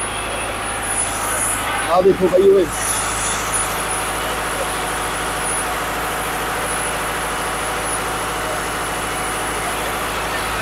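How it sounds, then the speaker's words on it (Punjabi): Engine and generator aboard a river boat in North East India drone steadily and loudly throughout, a constant low hum with a brief burst of nearby talking about two seconds in. "ਇੱਧਰ ਜਨਰੇਟਰ ਚੱਲ ਰਿਹਾ, ਇਹ ਇੰਜਨ ਆ ਇੰਜਨ।"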